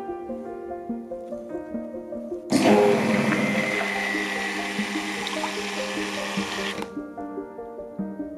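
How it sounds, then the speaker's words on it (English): Lime water is poured onto a stick blender during soap making for a peppermint coffee scrub bar, producing a steady rushing splash that lasts about four seconds over soft background music. "Pour the lime water onto the stick blender right there."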